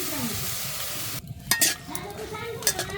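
Vegetables fry with salt and turmeric powder in a pan, giving a steady close sizzle. A couple of sharp spoon scrapes and clinks against the pan break in as it is stirred, with no speech.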